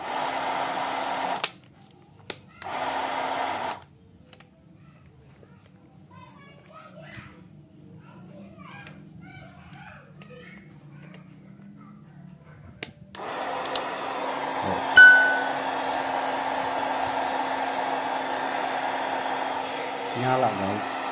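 A cordless heat gun rated around 1000 watts starts with a steady blowing hum and keeps running up close. People talk briefly before the gun switches on.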